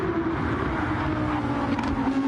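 Race cars run on the Nürburgring circuit during tuning checks before a 24-hour race, giving a steady, loud engine drone with a slight pitch rise near the end and no talking.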